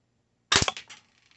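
One close, sharp crack from a black UKARMS P618SB airsoft pistol, with a quick rattling tail of small impacts fading out in a quiet space.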